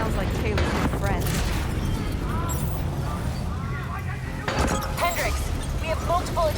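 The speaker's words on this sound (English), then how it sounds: "we have multiple explosions across the facility" Repeated explosions rumble across a facility in Call of Duty: Black Ops 3, dense booms and crackling blasts under continuous battle noise, with brief voices in the mix.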